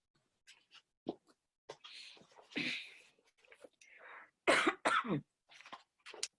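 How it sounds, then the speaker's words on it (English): Several coughs, close and fairly loud, scattered in a short series with brief gaps, some sharp and some breathy, with no talking. "Of course, I have the cough right away when I have to read."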